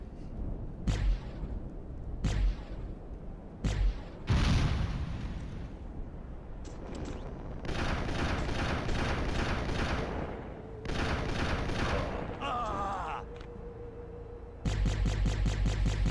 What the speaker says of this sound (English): the anti-aircraft stuff can be a real pain